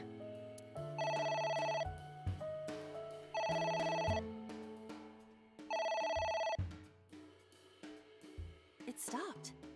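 A telephone rings in three long, evenly spaced electronic bursts in the game AI: The Somnium Files, with gaps between rings and a voice talking during the pauses and after the ringing stops.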